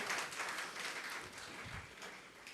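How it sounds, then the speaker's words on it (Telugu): Faint, distant clapping from a church congregation at a Mass blessing a Saint Paul church, a soft scattered patter that continues steadily without voices. "గట్టిగా చప్పట్లు కొట్టుకుని అందరూ."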